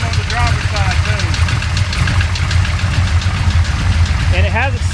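A 1966 Chevy Impala's 427 V8, revived after 20 years abandoned, idles loudly with a steady low rumble and a fast tapping tick from the back of the engine, while voices talk over the top.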